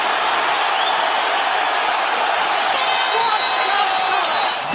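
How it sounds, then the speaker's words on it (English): A packed arena crowd at the Barclays Center applauds and cheers both fighters at the end of an MMA bout, a loud, continuous roar of clapping and voices. "The end of the fight would have the entire Barclays Center on their feet applauding both athletes."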